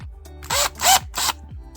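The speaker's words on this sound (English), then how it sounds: "I've got one loaded up into the trusty F.A.B drill" Power drill spinning a foam cutter loaded in its chuck for fly tying with a yellow foam block, three loud whirring bursts each rising and falling, with short pauses between them.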